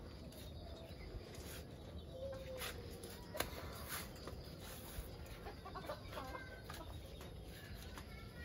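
Phoenix and onagadori chickens in a coop at dusk give faint, scattered clucks over a steady hiss of evening background noise.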